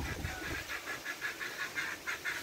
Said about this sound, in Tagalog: Pinapakain ni Ganjan yung mga manok